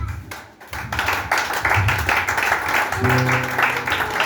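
A church congregation applauds together, a steady patter of many hands clapping that swells and holds for several seconds, with a sustained tone sounding beneath the clapping toward the end.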